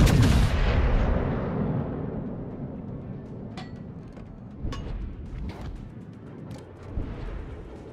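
Naval guns from a warship video game go off in a heavy opening blast that rumbles and fades, followed by several further distant booms and sharp reports scattered over the next seconds.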